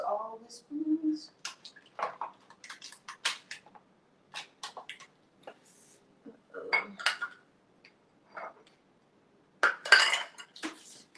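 Spoons and other cutlery clink and clatter in a kitchen while butter is being melted for icing, with sharp scattered metallic taps and rattles separated by quiet gaps.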